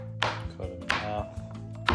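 A knife chops through a zucchini on a cutting board while venison stew is being prepared, giving three sharp, close thunks spaced across two seconds over a faint steady background hum.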